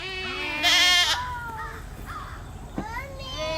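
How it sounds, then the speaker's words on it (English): Goats on a farm give wavering, nasal bleats, one high and loud among several fainter calls, close by outdoors over a quiet background. "Farm, but look at all these goats."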